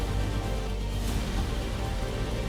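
Heavy monsoon rain pours down steadily by a flooded national highway, a dense, loud, unbroken hiss of rainfall with no voices.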